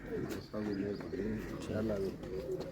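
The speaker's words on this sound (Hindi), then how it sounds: "इसको आप गोल्डन कबूतर भी कह सकते हैं।" A golden pigeon with red eyes gives low, soft coos in a short repeated run, close by, while people talk over and around it.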